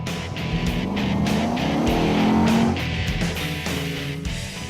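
A Mercedes SLK 55 AMG convertible's engine roars loudly while driving, a sustained close rumble rising in pitch through acceleration, then dropping and climbing again as it shifts.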